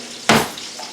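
Butter hitting a hot frying pan on a front stovetop burner, setting up for a steak: one sudden loud hiss that swells quickly and then trails off into a fainter sizzle, with no voices.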